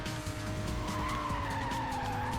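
A race car skids with the handbrake held in the Hot Wheels World Race video game, a loud continuous tire squeal over a steady engine drone, with no talk.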